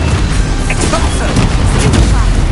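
A booming spell blast from a PS4 video game, with a dense, continuous explosive roar and crackle that stays loud for the whole stretch, mixed with game effects.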